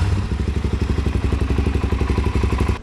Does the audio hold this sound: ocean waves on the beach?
no